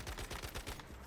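Rapid gunfire in the video game Once Human, a quick burst of about six evenly spaced shots, close and punchy, stopping abruptly.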